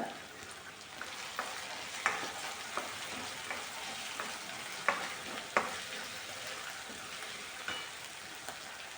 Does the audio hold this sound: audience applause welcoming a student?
no